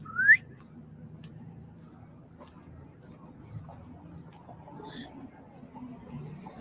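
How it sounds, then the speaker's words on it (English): A person whistles on a cold street, one short rising whistle near the start, followed by distant traffic rumble and faint passing voices. "He just whistled at me, buddy."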